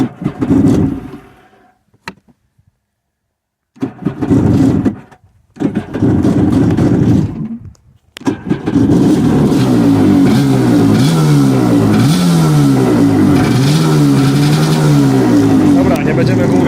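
A Yamaha RA700S jet ski, just out of a garage, being started out of the water: several short cranking bursts with silent gaps, then the engine catches and runs loud and close with rising and falling revs.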